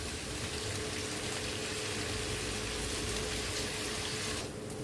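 Water poured into seasoned rice in a pan while making a Bengali chal potol dish, a steady rushing pour that runs continuously for several seconds before easing off at the end.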